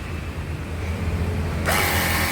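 Spray nozzle of a Jet Washer 588 VF pressure washer being twisted to change spray modes, a steady mechanical whir that jumps into a loud broadband hiss of spraying water near the end.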